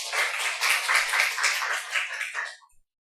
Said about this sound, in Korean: 할렐루야, 우리 하나님 박수